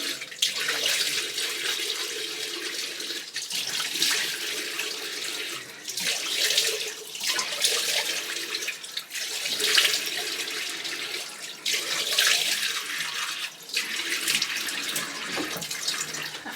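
Tap water runs steadily into a sink during a face rinse, a close hissing splash that rises and dips as hands move through the stream, with no voices.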